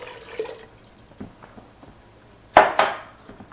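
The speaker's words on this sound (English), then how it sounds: "A cup of water." A cup of water is poured into a pot of amberjack fish stew with potatoes and tomato sauce, a short, loud splashing gush near the end that follows quieter kitchen clinks.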